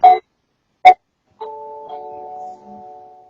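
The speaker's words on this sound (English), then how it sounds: "I'm gonna push the little doorbell." A video doorbell chimes: a couple of short tones, then ringing notes that hold and slowly fade, fairly quiet and close.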